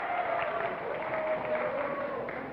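Studio audience at a game show claps in a moderate, even wash of applause that holds steady throughout.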